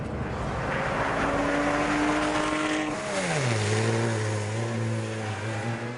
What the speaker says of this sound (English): firing the motor from the GT3 Cup car